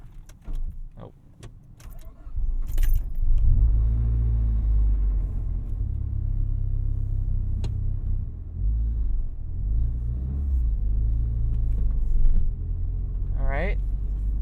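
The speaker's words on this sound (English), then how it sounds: "let's go ahead and take this thing out for a rip and see how she does" A 1990 Nissan Pulsar GTiR idles and drives with a steady low engine rumble through most of the stretch, after a few clicks and knocks at the start and a brief squeaky whine near the end.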